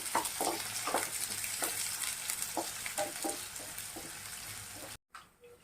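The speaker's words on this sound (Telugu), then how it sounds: "వీటన్నిటిని వేయించుకోవాలండి" Vegetables and a green chilli fry in a pan for a cauliflower tomato curry, giving a steady close sizzle with repeated stirring scrapes before the sound cuts off near the end.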